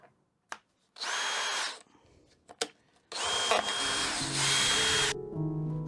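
A power drill bores holes in a wooden shooting board, with two long high whining runs about two and three seconds each, separated by short knocks and clicks, loud and close.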